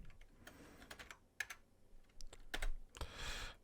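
Computer keyboard keys clatter in quick, irregular bursts of typing, with brief pauses between clusters of keystrokes and a denser flurry near the end, fairly close and quiet.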